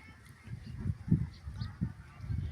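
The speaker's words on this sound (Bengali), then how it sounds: "পাখির কোলাহল, পাখি আওয়াজ করতেছে" Geese honk repeatedly in a rural village field beside mustard plants, a series of soft low calls in an uneven rhythm, fairly faint and at a moderate distance.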